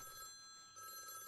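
A telephone rings indoors at a house. Two bursts of a bright, steady electronic ring are split by a short pause, faint and alone with no voices.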